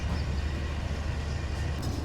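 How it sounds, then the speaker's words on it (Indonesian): Putri Deli passenger train running into a small crossing station, a steady, loud, close rumble with deep low-end drone and no voices. "Kereta api Putri Deli masuk jalur 1"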